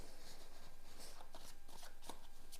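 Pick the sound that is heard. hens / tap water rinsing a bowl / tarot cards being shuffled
tarot cards being shuffled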